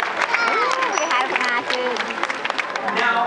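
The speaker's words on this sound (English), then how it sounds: "Why don't we give them a round of applause?" An audience at a dolphin show breaks into a brief burst of clapping, partly under a voice talking over it and crowd murmur.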